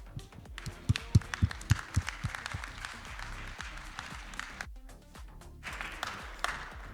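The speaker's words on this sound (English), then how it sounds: "we are going to introduce with a very loud clap to Tony Lauro" Conference audience at Ekoparty security convention claps to welcome a speaker to the stage, sharp nearby individual claps early on over a broader crowd applause that thins out, then swells again near the end.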